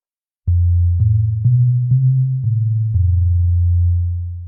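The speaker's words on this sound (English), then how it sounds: "obviously we got a sine wave or a saw." A low, pure synthesizer tone holds steady, stepping up and down in pitch every half second with faint clicks at each change, then sustains alone.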